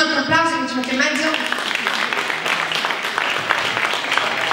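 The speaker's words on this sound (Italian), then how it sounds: "Dai, facciamo un altro applauso" At a charity fashion and entertainment show, a voice briefly sounds before the crowd claps loudly, a thick, sustained round of applause that fills the rest of the moment.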